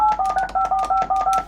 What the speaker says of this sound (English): I can dial phone numbers.